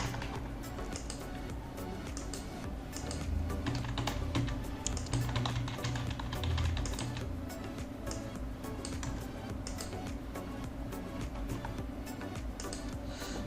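Rapid, continuous keystrokes on a computer keyboard enter test card details into a checkout form, a close, even patter of small clicks with a low steady hum underneath.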